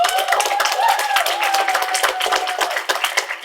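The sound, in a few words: audience applause at a high school poetry slam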